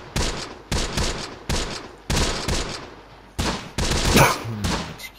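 A machine gun hammers away in Close Combat: The Bloody First, a World War II tactics game, firing loud bursts in a steady rhythm of about eight or nine strikes with brief gaps, heard alone.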